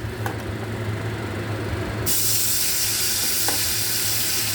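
A quiet kitchen hum gives way to a sudden loud sizzle as marinated meat for kosha mangsho hits hot ghee, then sputters steadily and close by.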